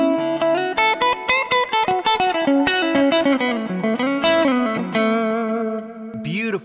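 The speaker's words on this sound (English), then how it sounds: "Beautiful, beautiful humbucker cleans to me." Les Paul electric guitar with humbucker pickups played clean through an amplifier, a quick run of plucked notes with a warm, full tone that ends on a held note and a brief slide.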